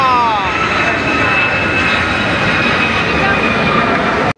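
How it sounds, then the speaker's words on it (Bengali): An airplane passing overhead near Diabari, a loud, steady roar with a sweeping engine whine that fades early on, close and continuous, with a voice faintly present. "আর সাথে সাথে একটা প্লেনও আসতেছে।"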